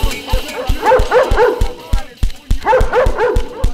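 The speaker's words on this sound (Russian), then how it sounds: "Меня собака сожрала!" Dog in the video game Russia Battlegrounds barking in a rapid run of loud, close yelps and woofs, two bursts separated by a short pause, with speech mixed in.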